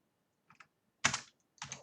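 Fingers tap out a short word on a computer keyboard, a few quiet close clicks in two or three small bursts, alone.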